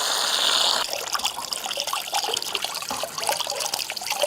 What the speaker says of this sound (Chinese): 鸡蛋有点脏，我去洗一下